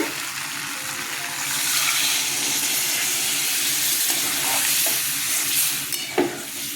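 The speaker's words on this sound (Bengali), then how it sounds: "কচু পুরো কষানো হয়ে গেছে জল দিয়ে দিচ্ছি" Water added to sautéed taro cooked with ginger, chilli and mustard paste in a hot pan, producing a loud steady hiss and sizzle with a few stirring clinks, no talking.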